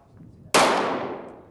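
A single loud gunshot from an FN Herstal Five-seven pistol, a Belgian-made handgun, cracks sharply and then rings out in a long decaying tail.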